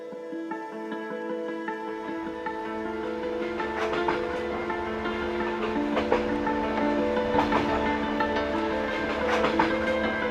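Overnight train from the border town of Chelm, Poland to Kyiv: a steady rumbling carriage interior with a low hum, faint rhythmic clicks and metallic creaks, constant and moderately loud throughout, no voices.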